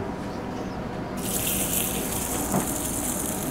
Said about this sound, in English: We got these beautiful U8 scallops here. We're gonna be pan-searing them.